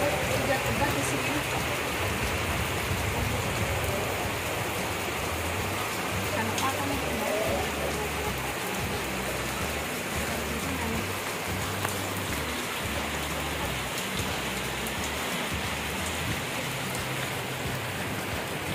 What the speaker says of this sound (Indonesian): soalnya hujan banget, hujan lebat di sini.